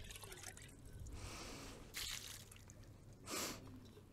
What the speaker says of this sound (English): just rinse it out, get the worst of the muck out of it,